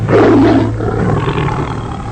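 A tiger roar sound effect, loud and close, opening with a deep, rough growl that fades into a rumbling, breathy tail with no voices.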